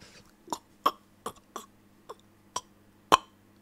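A series of about seven sharp, throaty coughs at irregular intervals, close to the microphone and fairly loud, with no talking in between.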